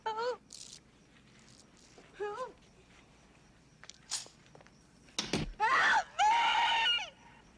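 A woman screams repeatedly in a hospital scene from the horror film Halloween II, with loud, shrill, wavering cries in several bursts, the longest near the end, over quiet film background.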